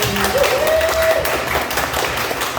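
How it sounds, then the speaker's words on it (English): A conference audience applauds the mothers in the room, a dense wash of many hands clapping throughout, with a brief voice or cheer rising over it near the start. "give them a round of applause, please"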